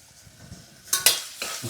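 Tomatoes cooking in oil in a pan for a sprouted moong masala curry, stirred with a spoon: quiet background at first, then a few sharp close scrapes and clinks of the spoon over a soft sizzle.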